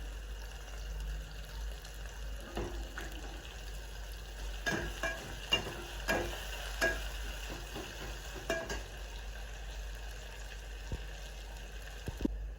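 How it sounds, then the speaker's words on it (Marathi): Onions sauté with a pinch of salt in a pan for masalebhat, giving a soft sizzle under scattered spatula scrapes and clinks that come in bursts, fairly quiet and close. "थोडंसं मीठ घालायचं जेणेकरून पटकन आपलं कांदा आपला पटकन परतला जाईल"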